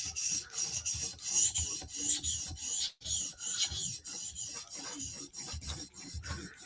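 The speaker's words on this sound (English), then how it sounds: "Now we're going to jump up to our 400 grit Copstone CBN. We'll do 2 passes with this stone real quick." Knife blade, a Spyderco Slysz Bowie, stroked across a 400 grit CBN sharpening stone, giving repeated quick rasping scrapes in a steady back-and-forth rhythm with one brief pause midway, close and crisp, with no voices.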